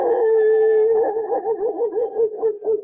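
A voice imitates an aggressive dog, starting with a sustained howling tone and breaking into a series of rhythmic, wavering growl-like yelps, loud and close with no other sound.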